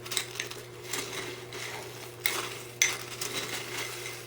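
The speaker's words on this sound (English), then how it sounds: "And then I'm just going to mix that all up." Homemade rat treat mix stirred in a bowl, producing close clinking and gritty scraping in uneven bursts, with a couple of sharper knocks partway through.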